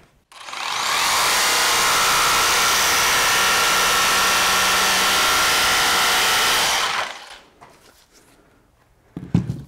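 A Bosch jigsaw fitted with a ProClip wood blade cuts through a wooden board, giving a loud, steady rasping whine for about six seconds that then stops, followed by faint clatter.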